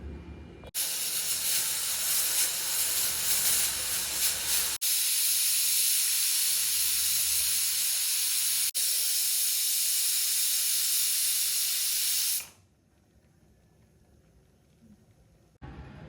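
A pressure cooker of greens for a village-style soppu sambar lets out a loud, continuous rush of hissing steam for about twelve seconds, then cuts off abruptly, leaving a quiet room with no talk.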